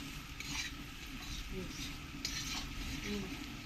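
Onions salted and frying in a pan for a village-style chicken curry make a quiet, steady sizzle with soft rhythmic stirring scrapes, faint and close, without talking.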